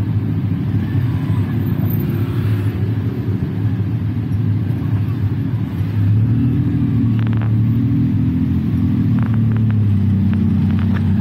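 A tuk-tuk rides through traffic in Thailand, its engine a steady, close rumble with a slight rise in pitch partway through, and faint road noise around it.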